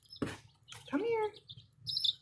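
Baby chicks in a brooder box under a heat lamp give a few close, thin peeping chirps, spaced irregularly over quiet background handling noise.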